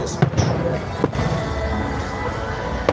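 Fireworks at the EXIT music festival in Novi Sad, launched from Petrovaradin fortress, give a few sharp distant pops and bangs over a constant outdoor crowd murmur.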